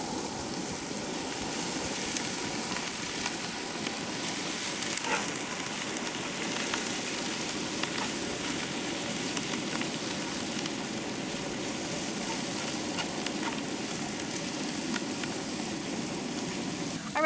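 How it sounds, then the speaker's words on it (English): Onions sautéing in a Dutch oven give a faint, even sizzle and crackle that holds steady throughout, with no talking over it. "So we're just gonna saute those onions."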